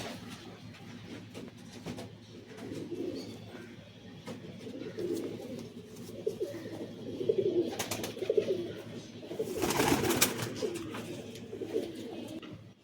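A female Madrasi pigeon coos while feeding her chick, with soft repeated low coos close by, some fluttering and scuffling, and a louder burst of rustling midway.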